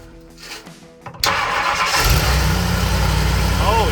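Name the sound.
1964 Ford Galaxie 500 engine starting with new carburetor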